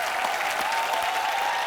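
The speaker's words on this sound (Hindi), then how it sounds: "एक बार अरशद भाई के लिए जोरदार तालियां।" Studio audience applause on a comedy talk show, a steady, dense wash of many people clapping, continuous and fairly loud for a brief stretch, with no clear talk over it.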